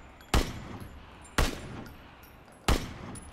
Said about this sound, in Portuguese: Tem tiro atrás, o Sterling.